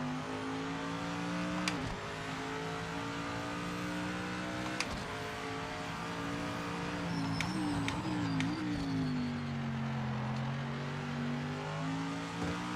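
A race car engine in Assetto Corsa Competizione drones loudly and steadily, with its pitch sliding up and down through gear shifts and a few sharp ticks of shifts or bumps, running continuously with no talk.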